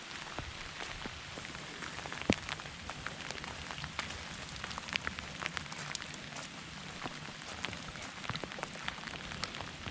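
Steady rain falling on trees beside a creek on a rainy day in Nebraska, a dense even patter with scattered sharper drips close by, fairly quiet and with no voices.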